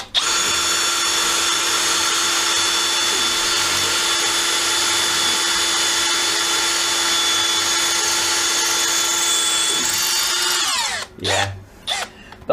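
A Milwaukee M12CD 12V cordless drill drives steadily with a loud, high-pitched motor whine held for about ten seconds, then winds down and stops, leaving a few brief handling knocks.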